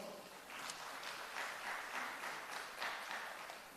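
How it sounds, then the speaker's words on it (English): A conference audience at a UNDP energy session gives a round of applause, a soft steady patter of many hands clapping at moderate distance, fairly faint, with a slight swell partway through. "Please, a round of applause."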